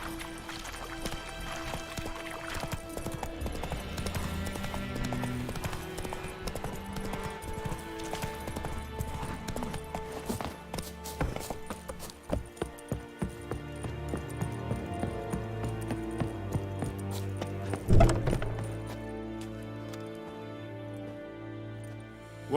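Geralt's horse Roach gallops in the video game The Witcher 3, rhythmic hoofbeats running under game music, with a few distinct thuds partway through and a loud clash near the end.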